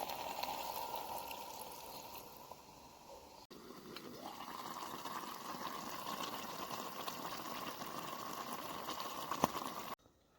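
A steady stream of water runs and splashes into a cooking pot of pasta with vegetables at a campsite for several seconds, with a brief clatter partway through and a clunk near the end.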